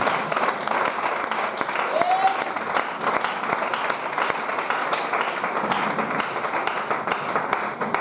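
A church congregation breaks into sustained applause acclaiming Jesus, dense steady clapping from many hands filling the room, with a faint voice briefly audible beneath it.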